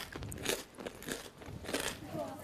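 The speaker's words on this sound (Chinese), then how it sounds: "嘎嘣脆的，很好吃的" Someone bites into a crunchy packaged snack and chews it up close. Several crisp, sharp crunches come in quick bursts over a soft background.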